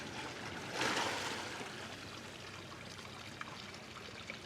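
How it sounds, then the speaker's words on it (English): A small waterfall on Jeju's black sand beach pours in a steady, even rush of falling water, swelling briefly near the start and then running on unbroken with no voices. "The little mini waterfall."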